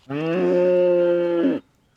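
A sheep on a farm hillside, sharing the pasture with a heifer, gives one long, wavering bleat, close and loud, lasting about a second and a half before quiet returns.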